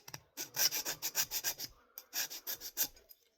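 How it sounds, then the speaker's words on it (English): A file scraping the eyelets of a guitar pickup bobbin, a quick series of about a dozen short rasping strokes in two bursts, close and fairly quiet, no talking. "But now take a bit of a file. You can hear it."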